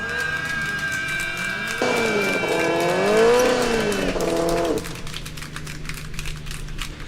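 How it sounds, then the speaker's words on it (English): Combustion race car at a historic acceleration event: a loud engine rises and falls in pitch for a few seconds, then drops away as the car stalls, leaving a quieter idle-like hum and crowd ambience. "Just when you're wanting to have a nice, clean getaway from a combustion car, it stalls"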